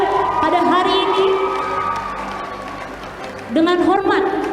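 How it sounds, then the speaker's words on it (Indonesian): Audience at a choir competition in Makassar cheering and shouting for the judges, loud excited voices and whoops with some clapping underneath, swelling again near the end. "Mari beri tepuk tangan untuk ke-9 juri kita"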